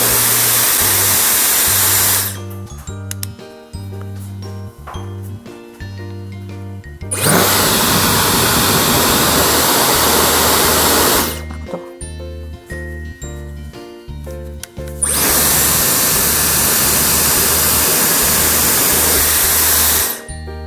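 A Dyson Supersonic hair dryer or Airwrap runs on its strongest setting, giving a loud, steady high-pitched whoosh in three long bursts separated by quieter pauses with music playing.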